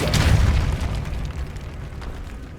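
A Depulso force-push spell is cast in the Hogwarts Legacy video game, letting out a loud, close, booming blast that rumbles and slowly fades over about two and a half seconds.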